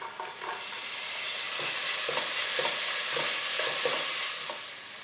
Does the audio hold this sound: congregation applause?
no